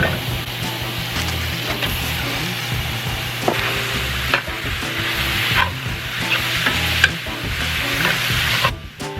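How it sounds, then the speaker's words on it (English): Turkey sizzling in a hot pan, a loud continuous frying hiss with spatula scrapes and knocks at intervals, no talk. "the pan should be nice and hot, so I'm gonna throw in my turkey"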